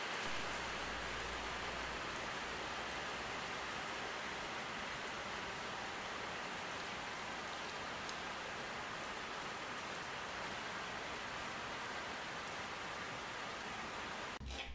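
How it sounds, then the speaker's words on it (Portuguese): Rain pours outside, heard from indoors as a constant, even wash of noise that holds at the same level throughout, with no voices over it. "tá chovendo lá fora"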